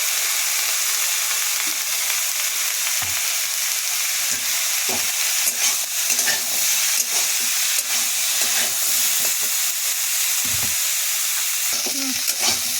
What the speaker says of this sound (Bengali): ডুমুর ভাজা হয়ে গেছে